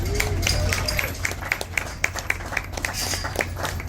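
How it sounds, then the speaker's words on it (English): Crowd applause at the Aitkin County Fair cattle show after the cow-calf pairs class. Sharp individual claps stand out over a murmur of voices and a steady background hum. "Let's give them a round of applause."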